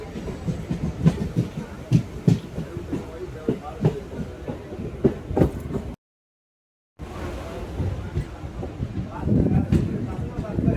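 A Mayiladuthurai–Villupuram MEMU train rolls along the rails with a rhythmic clickety-clack and rumbling carriage noise, heard from inside with talk, a brief dropout midway, then growing louder.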